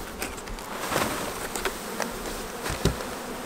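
Steady buzzing of a virgin honeybee swarm, a constant droning hum with occasional nearer passes, moderately quiet and continuous.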